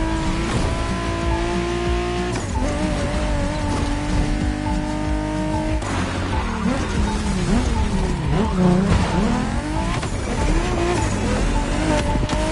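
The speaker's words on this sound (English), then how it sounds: "There's an absolute classic heading your way, a grail among collectors and Jim's greatest pride, the Mustang Boss 429" Ford Mustang Boss 429 classic American muscle car engine in The Crew Motorfest, loud revving with rising and falling pitch sweeps, gear changes and throttle blips close by, a tire squeal near the end.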